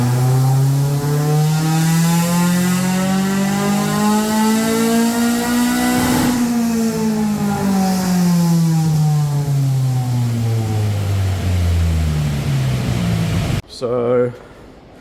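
A Honda EP3 Civic Type R engine on a dyno revs up smoothly to a loud peak, then winds down steadily before cutting off abruptly near the end, close and dominant throughout.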